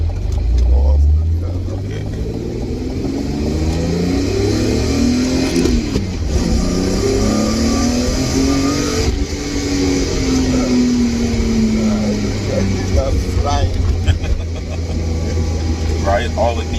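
A built BMW E36 track car with a 3.2 liter six-cylinder engine, its exhaust droning and rising in pitch as it revs and accelerates, falling and climbing again, with people talking over it inside the car.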